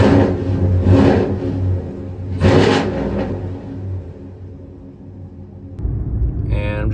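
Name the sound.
2014-2018 Chevrolet Silverado truck driving down the road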